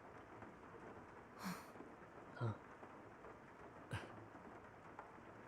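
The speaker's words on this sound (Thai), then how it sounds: "แต่ว่าตอนนี้ฝนตกนะ" Rain falling in the video game Master Detective Archives: Rain Code, a soft, steady hiss running throughout with a few brief, louder thuds and crackles breaking through.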